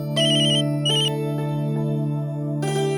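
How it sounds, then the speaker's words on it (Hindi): A mobile phone ringtone plays loud and close, a bright repeating electronic melody in short bursts with a sustained droning tone beneath, with no voices. "बहू का फोन है।"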